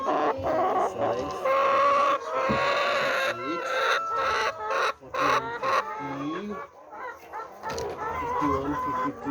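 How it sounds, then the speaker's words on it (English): Chickens on a community chicken farm in South Korea cluck and squawk in overlapping bursts close by, with brief pauses between calls. "Chickens are very curious about cameras"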